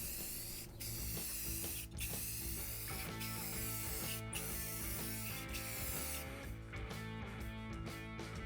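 Clear coat sprayed onto a carved teak sign, a steady close hiss broken by brief pauses, with faint mechanical hum underneath.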